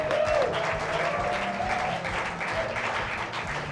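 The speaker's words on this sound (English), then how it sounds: "Let's congratulate for one last time with a round of applause" Audience clapping for award winners at the 2021 North Carolina Awards, a steady, dense round of applause in a hall that holds evenly throughout without speech.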